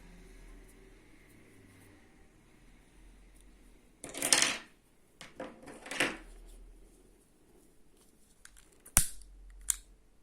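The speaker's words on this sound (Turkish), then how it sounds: "ipimi buradan kesiyorum" Scissors snip crochet thread for needle lace edging, giving a few sharp, close cuts spaced seconds apart against near silence.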